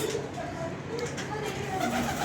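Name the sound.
pigeons cooing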